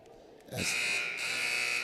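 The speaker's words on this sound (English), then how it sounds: "As they've done their second buzzer, they're still in the huddle." A loud, sustained electronic buzzer in a high school girls' basketball gym blares suddenly after half a second of crowd murmur and holds steady to the end.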